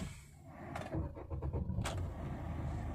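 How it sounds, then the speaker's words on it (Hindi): A car's engine cranks and starts: a brief run of rapid starter clicks and whirring followed by the engine catching, heard close and fairly quiet with no talking. "अब मैं गाड़ी को स्टार्ट कर रहा हूँ।"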